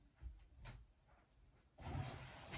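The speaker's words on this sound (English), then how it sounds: "Let me shut the door." Somebody shuts a door inside a house in the morning: a brief soft bump and rustle, then a louder sliding rush and thud, all quiet, with no talking.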